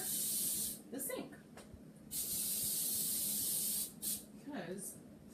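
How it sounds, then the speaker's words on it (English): Cooking spray from an aerosol can coated into a cake pan over a kitchen sink: three loud hissing bursts, the first and longest at the start, separated by quiet gaps where a voice briefly talks. "I should always spray over the sink."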